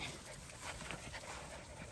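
Puppies play in grass outdoors in Ghana, panting softly and quickly close by, with faint rustling against a quiet outdoor background.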